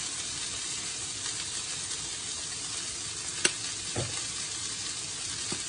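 Oil sizzles steadily in a hot pan as broccoli with bacon and black beans is stir-fried with wine, a constant close frying hiss broken by a few sharp clinks of a utensil against the pan.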